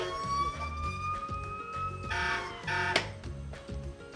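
A small electronic siren on a ride-on toy police SUV wails over a busy background of tinny music and clicks, rising and falling in pitch, fairly loud and close.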